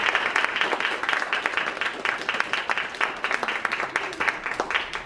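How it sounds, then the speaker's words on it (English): A moderate audience claps in a steady patter of applause at a senatorial candidates forum, lively and even throughout with individual claps standing out close by. "Please, let's give them a round of applause."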